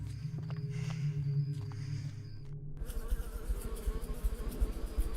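In the horror adventure game Stasis, killer bees break into a dense, continuous buzzing about halfway through, replacing a low droning hum and holding steady and close until the end.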